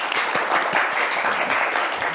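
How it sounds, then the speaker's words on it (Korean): Audience applause closing a university lecture on the platform era, with dense steady clapping from a large hall filling the whole stretch at an even level. "큰 박수 부탁드리겠습니다."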